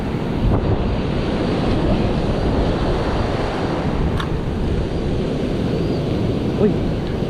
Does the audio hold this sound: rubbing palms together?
no